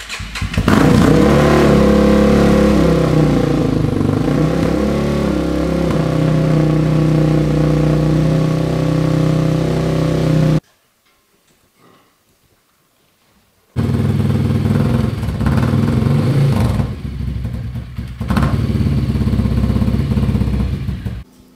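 A built Honda XR650 motorcycle engine starts and runs on a dyno with a loud, steady, close rumble and some revving. It cuts to near silence for a few seconds, then roars back at full volume.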